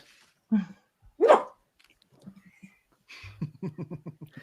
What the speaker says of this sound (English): guard dog is doing his job.